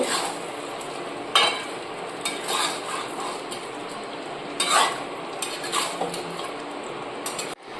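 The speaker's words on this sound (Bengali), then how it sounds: "মশলার সাথে ভালো করে মিশিয়ে নেব।" Paneer being stirred into fried masala in a pan, with repeated metallic scrapes and clinks of a spoon against the pan over a steady soft sizzle, close and moderately loud, no talking.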